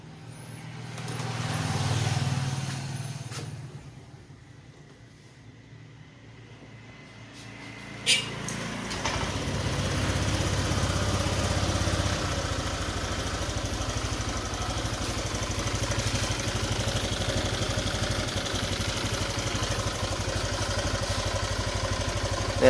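A Honda Vario 125 scooter engine starts with a short crank and settles into a steady, close idle that hums evenly for the rest of the clip.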